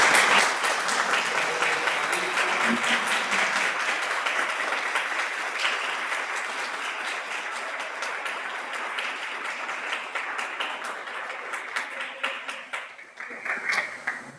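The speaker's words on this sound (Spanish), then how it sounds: "Quisiera que se pusieran de pie y le dieran un fuerte aplauso a este par de caballeros" Sustained audience applause for two journalists and founders at a public talk in Guayana, dense steady clapping throughout with a brief swell near the end.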